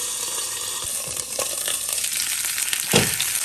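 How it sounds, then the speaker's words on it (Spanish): Arbol chiles, tomatoes and tomatillos fry in a covered pan, giving a constant close crackling sizzle broken by a few louder spits and clatters as the pan is stirred. No voices. "Volver a mover para que se siga sofriendo muy bien."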